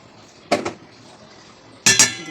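A metal lid goes onto a bowl of kneaded dough in a home kitchen: two sharp clanking contacts, one near the start and a louder double clink near the end, each followed by a short ring in a quiet room.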